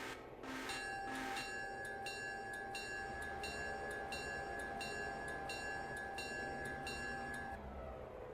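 A train departs in the Railroader video game, with a sustained horn-like tone and a run of repeated bell or chime strikes ringing over a low rolling rumble, no voices.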